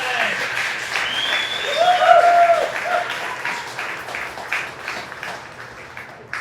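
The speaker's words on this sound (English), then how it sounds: "please give one more round of applause for all the work that they've done this year" Audience applause at a county fair opening ceremony, a broad, steady wash of clapping from a crowd that swells and then slowly thins out, with some talk mixed in.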